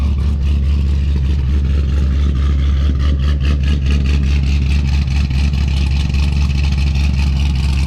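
A C6 Grand Sport Corvette engine warms up, a loud continuous low rumble that holds steady throughout without revs or pauses.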